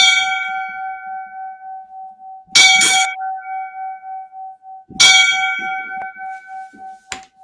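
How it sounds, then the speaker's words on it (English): A bell is struck in slow, deliberate rings in memory of fallen FDNY firefighters. Each clear metallic strike is followed by a long, evenly sustained tone that dies away, and no one speaks. "So we're going to ring out the 5 bells for these brothers."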